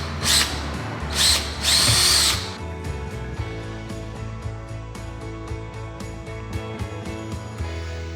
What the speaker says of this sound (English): Here's the new holes that we have to drill.